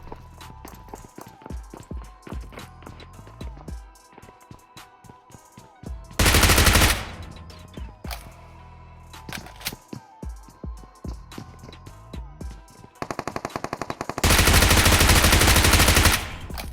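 Gunfire in a PUBG-style battle royale game comes as two long, loud bursts of automatic fire, with quieter footsteps and game effects in between.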